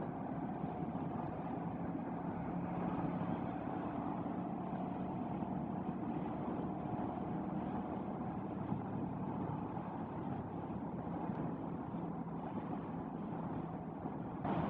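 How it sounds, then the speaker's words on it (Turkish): Steady low rumbling buffet of wind against a DJI Osmo Action 4 wireless microphone on a windy day, continuous and fairly loud, blended with a droning engine-like hum, no voices. "Bayağı rüzgarlı bir gün zaten bugün."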